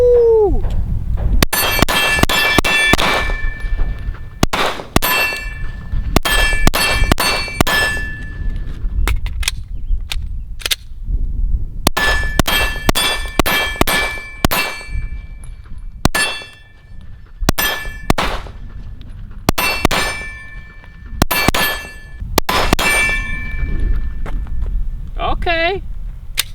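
Glock 19 Gen 5 pistol fitted with a Radian Ramjet and Afterburner, fired at a steel target from 15 yards: loud, sharp shots in rapid strings, each followed by a ringing metallic clang, with brief pauses between strings.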